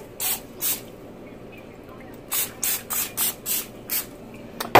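Canola oil cooking spray hisses in short bursts onto a baking pan, first two quick sprays, then a steady series of five or six close puffs, near and fairly loud.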